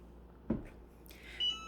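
A soft thump followed by a faint electronic beep from a heat press signaling it is done, quiet and brief, in an otherwise hushed room.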